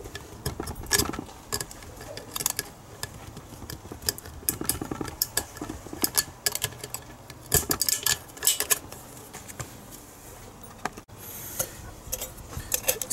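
An aluminum Coke can being cut bit by bit for a homemade alcohol stove: scattered sharp metallic snips, crinkles and scrapes in irregular bursts, fairly close, with no talking.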